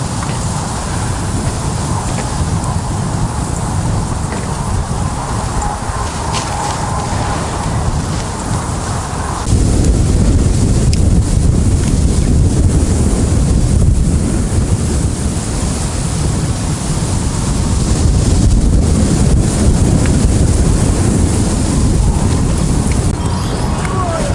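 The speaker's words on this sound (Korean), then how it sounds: "우와 바람 너무 심하게 불다" Strong wind blows steadily across the microphone outdoors as a broad, loud rushing roar, growing heavier partway through and staying constant to the end with no speech.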